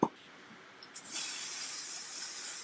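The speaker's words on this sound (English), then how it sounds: "Just going to spray a little bit" A can of KK2000 temporary spray adhesive lets out one steady hiss of spray for about a second and a half, preceded by a faint click, close and fairly quiet.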